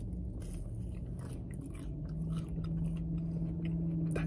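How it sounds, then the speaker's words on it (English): Someone bites into a Wendy's French toast stick without syrup, a close, soft crunching bite followed by quiet chewing inside a car, with no talking. "Actually, I'm just going to take a bite without the syrup."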